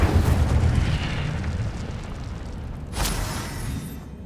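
An Incendio fire spell cast in a Harry Potter video game gives a dense, roaring burst of flame that swells and fades, with a brighter flare of whooshing fire near the end.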